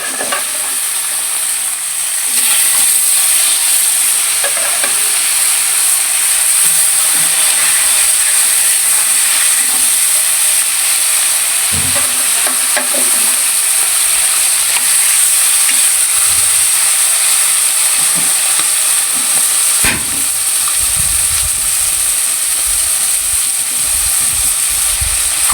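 Koi fish frying in a pan gives a loud, steady hiss and sizzle that goes on for the whole stretch, with occasional faint clinks and stirring sounds underneath.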